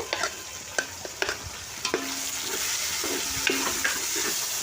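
Chopped tomatoes and masala are stirred in a frying pan for khichdi, a few quick spatula scrapes at first, then a steady, close sizzle.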